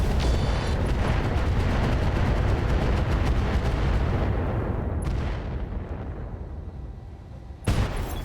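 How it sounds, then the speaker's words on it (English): A heavy Alpha Strike barrage of improved medium-range missiles in RogueTech, a long, dense roar of rapid launches and booming impacts that slowly eases off, closing with one sharp blast. "We're just going to go ahead and Alpha Strike this guy with improved MRMs."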